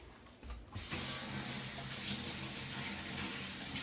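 Tap water switches on and runs steadily into a kitchen sink for rinsing, a soft rush that starts after a brief quiet clatter and continues without talk.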